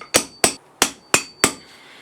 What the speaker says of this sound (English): Go around, bash it in, put it out, and the hammer down.